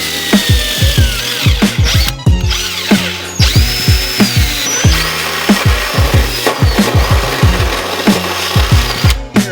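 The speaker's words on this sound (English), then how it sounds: "Now it's time to drill. I'm just gonna drill straight through the carpet" A power drill whirs in repeated short bursts drilling through car carpet, revving up and down with gritty grinding, close and loud.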